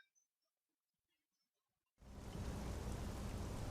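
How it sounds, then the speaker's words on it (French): Rain in the game Xenoblade Chronicles X begins abruptly after near silence and pours down as a loud, steady, dense hiss that fills the rest of the clip. "Et il pleut. Il y a encore la pluie sur la tête"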